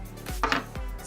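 A knife chopping through a homemade squishy rubber skeleton toy, two distinct dull chops against a cutting board, close and clear, with a soft squelch between them.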